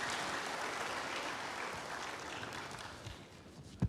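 An audience at a church sermon applauds, a faint, continuous wash of many hands clapping at a distance, tapering slightly toward the end.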